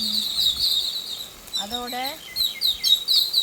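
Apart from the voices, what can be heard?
puliñci kuruvi bird calling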